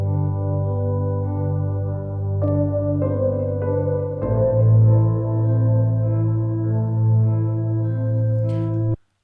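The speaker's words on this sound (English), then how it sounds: "Now all together, the element from Hybrid Keys sound like this." Layered Hybrid Keys virtual instrument parts play together as a sustained ambient theme for film and videogames, with low droning notes joined by entering higher tones and a deeper swell around midway, steady and full before cutting off abruptly at the end.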